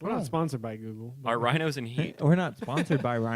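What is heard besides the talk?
No everyday noise stands out behind the speech.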